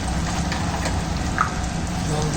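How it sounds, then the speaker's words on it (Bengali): Water splashing into a hot pan of frying potatoes, a steady broadband sizzle and hiss that stays loud and even throughout, close up with no voices. "এবার জল দিয়ে দেবো"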